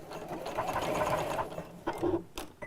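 A sewing machine topstitches fabric with a lengthened stitch, a loud, close, continuous rapid whir followed by a few short clicks and handling sounds.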